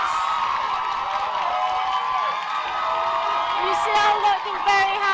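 A rugby crowd at a women's varsity match cheers and shouts after a try scored under the posts, a steady mid-level roar with a few higher whoops and voices rising near the end.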